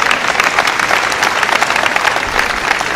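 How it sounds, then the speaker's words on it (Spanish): Loud, steady applause fills a graduation ceremony hall, many people clapping together in a dense, even roar that holds for the full three seconds. "fuerte aplauso"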